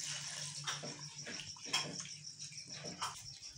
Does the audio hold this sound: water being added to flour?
yes